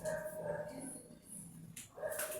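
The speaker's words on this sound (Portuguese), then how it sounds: "é o meu cachorro latindo" A pet dog barks outdoors on a street, several short yips and barks at moderate distance, heard faintly behind a steady room hum.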